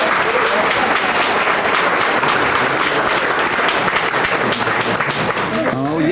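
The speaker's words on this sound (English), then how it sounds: "I think we need a round of applause for Judy as well" An audience at a forum on water and climate change bursts into sustained applause, dense and loud clapping filling the room throughout, with voices mixed in beneath.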